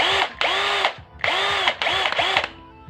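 A cordless drill runs in several loud whirring bursts, revving up and stopping four times with brief gaps between, alone with no talk.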